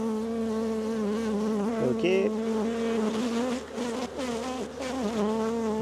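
Honeybees buzzing continuously and close while hive frames are handled during honey harvest and swarm division, a dense droning hum with shifting pitch and a brief spoken word over it.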